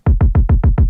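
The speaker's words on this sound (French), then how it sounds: "J'aime bien cette partie du pattern de kick là." Six punchy, saturated trap kick drum hits with soft clipping in an even, rapid pattern, each a loud boomy thump with a short decay, followed by a brief click at the end.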